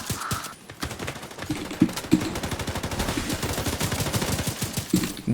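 Rapid automatic gunfire rattles continuously in a Division 2 PvP match, dense bursts of shots with brief gaps, loud and close.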